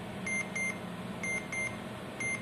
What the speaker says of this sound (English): so whichever target comes under this sector it will give automatic alarm as you can see